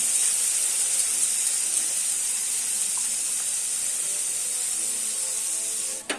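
Ground green peas drop into a spice mix already fried in a pan for green-pea paratha filling, giving a steady, hissing sizzle that stays close and even, then cuts off abruptly near the end with a brief clatter. No one talks.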